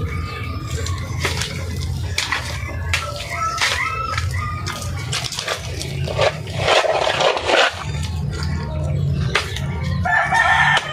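A flock of chickens clucks and cackles continuously nearby, with roosters crowing loudly over the busy background of birds.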